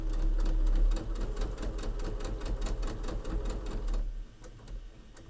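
A domestic sewing machine stitches steadily through a quilted sewing machine mat, a dense, even rapid needle chatter running loud and close for about four seconds before stopping abruptly, leaving quiet room tone.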